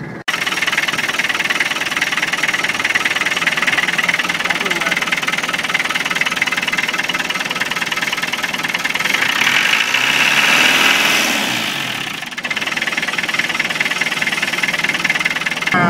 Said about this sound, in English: Let me show you the engine.